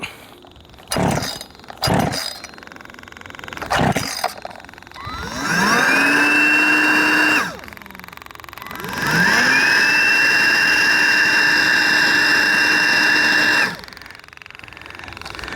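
A boosted chainsaw engine pulls over after a few sharp starting pulls, then screams at a high steady rev for a couple of seconds, cuts out, and fires again for a longer loud run before stopping.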